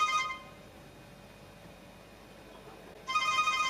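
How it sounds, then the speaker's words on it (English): A Lemfo Smart Watch X running Android 7.1 with 4G plays its incoming-call ringtone, a bright tonal melody heard briefly at the start and again near the end, with quiet room hiss between. "Just received a phone call."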